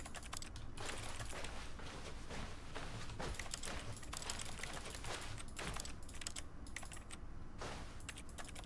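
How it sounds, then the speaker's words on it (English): Continuous rapid keyboard typing from The Stanley Parable, steady and fairly loud for the whole stretch, with dense overlapping keystrokes and only brief dips between bursts, no voices. "Still typing, apparently."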